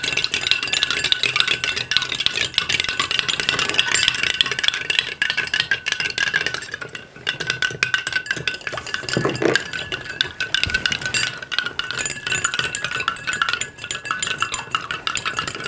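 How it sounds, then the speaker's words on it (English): Solution being stirred in a container during a saturated solutions experiment at home, producing continuous close clinking and rattling of a utensil against the container with no talking. "Okay, go ahead and stir it."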